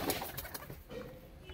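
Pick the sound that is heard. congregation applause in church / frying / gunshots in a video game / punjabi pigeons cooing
punjabi pigeons cooing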